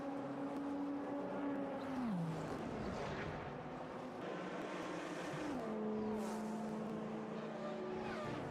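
Steady, continuous engine drone of a BMW race car in the Automobilista 2 sim racer, 2005 endurance class, with gear shifts dropping the pitch twice, loud and unbroken with no talk.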